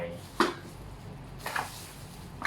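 A metal suki hot pot and pan clank and knock a couple of times, close by, with soft handling noise between the hits.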